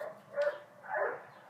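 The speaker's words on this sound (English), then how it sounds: "And the dogs are barking." Two short bursts of dog barking, moderately near and fairly quiet, in a workshop where wood is being fitted and planed; each bark is a brief yelp-like call with a pause between.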